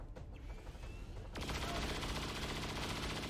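XCOM 2 video game saturation fire erupts after a quieter opening, a dense continuous burst of overlapping gunshots that stays loud and sustained to the end, with no voice over it.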